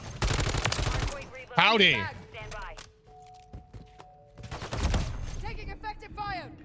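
RAM-7 assault rifle fire in the Call of Duty MW3 video game comes as loud rapid bursts at the start and again near the end, with a player's voice talking in between and over the shooting.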